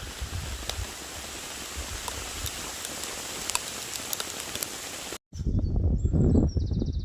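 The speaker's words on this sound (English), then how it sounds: "the rain is absolutely pelting it down now" Heavy rain pelting down on a woodland hammock camp in strong wind, a dense and constant patter of drops hitting nearby surfaces, then a brief cut and a louder, closer burst of rain.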